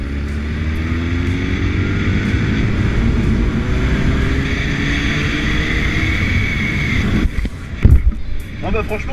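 A 2008 Honda CB1000R motorcycle accelerates at full throttle in sixth gear from about 50, its engine rising steadily under heavy wind rush, with a brief burst of extra noise near the end.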